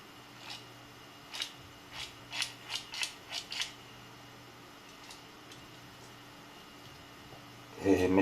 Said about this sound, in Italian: la blocchiamo con un dito e infiliamo il supporto con il perno